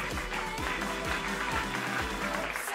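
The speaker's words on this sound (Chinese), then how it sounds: "知道边个位个掌声就要出现" An audience claps steadily and densely at a press conference before a singing-contest season, the applause loud and continuous for the whole stretch.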